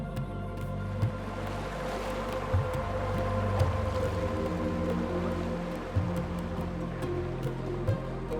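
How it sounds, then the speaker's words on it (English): Water rushing steadily at the Ulan-Tsutgalan waterfall on the Orkhon River in Mongolia's Orkhon Valley, a constant broad wash with a few brief knocks, no voices. "It's the sound of rushing water."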